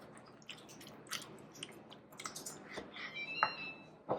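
Coffee cake batter with sour cream being stirred in a bowl, giving a soft, wet squishing and scraping close by with a few brief clicks, fairly quiet and without talk.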